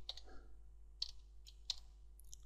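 Faint clicks of keys tapped on a computer keyboard, a few spaced presses at an unhurried pace over a steady low hum.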